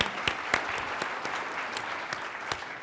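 Applause from an audience at a business leader roundtable during a walking summit, a steady clatter of many hands clapping that carries on for a few seconds without talk.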